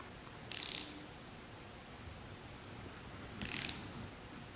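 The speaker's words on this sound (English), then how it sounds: "I'll get my torque wrench out." A torque wrench tightening bolts on a 1988 Ford Mustang gives two short, crisp ratcheting clicks about three seconds apart, close by in a quiet workshop.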